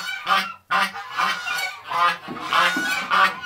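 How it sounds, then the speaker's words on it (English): Several pet geese honk close by in a rapid series of loud, nasal calls, about seven bursts in quick succession with brief gaps, alone without talk. "My geese are so awesome."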